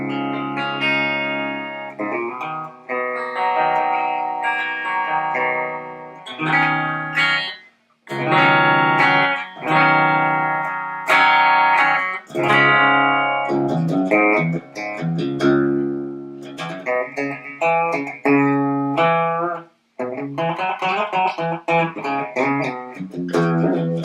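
An electric guitar plays through channels 2 and 3 of a 50-watt EVH 5150 III EL34 amp, with heavily gained chords and riffs, sustained notes and short gaps, loud and close with reverb.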